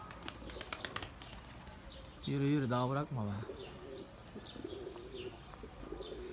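White Mardin pigeons coo in a loud, warbling burst near the middle, with faint chirps around it, while someone speaks over the quieter stretches.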